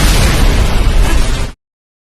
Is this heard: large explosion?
yes